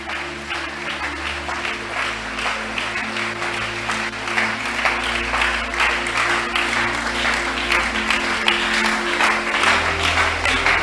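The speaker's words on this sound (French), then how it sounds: "Continuez à acclamer pour le Seigneur." A church congregation claps and cheers for the Lord in sustained, loud applause with an organ or keyboard chord held underneath, lasting the whole stretch.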